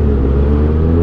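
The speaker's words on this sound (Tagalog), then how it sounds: "Ayan o, mga tricycle." Tricycles and motorcycles in traffic make a loud, continuous engine hum and drone from close by, with no voices heard.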